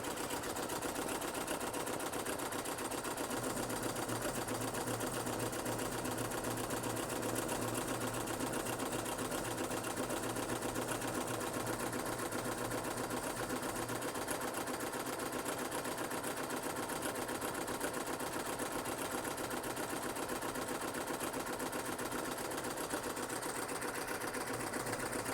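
A Poolin EOX embroidery machine stitches an applique, its needle chattering in a fast, even, continuous rhythm close by, with no voices over it.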